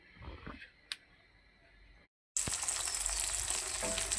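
An egg frying in a pan, quiet clattering and a brief click, then a sudden loud bright sizzle that holds steady for the last couple of seconds.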